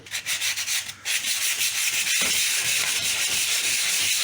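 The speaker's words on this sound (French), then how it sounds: "tout de suite un petit ponçage" Light sanding of dried plaster on a wall during a painting job in England, a close, loud abrasive rasping with short rhythmic strokes at first, then a steady continuous scrubbing.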